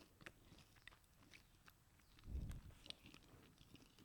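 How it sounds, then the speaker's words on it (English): Someone chews food close to the microphone, quiet crisp bites and crunches scattered through the moment, with a brief louder muffled crunch in the middle. "I wonder if I'm chewing out loud."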